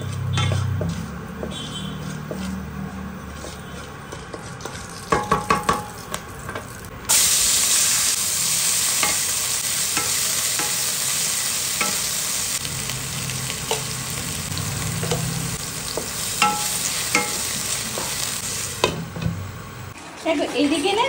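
Whole garam masala, a dried red chilli and cumin seeds frying in hot tempering oil, a steady loud sizzle that swells sharply partway through, broken by scattered clinks of a spoon against the pan.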